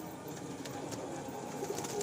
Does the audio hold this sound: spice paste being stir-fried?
no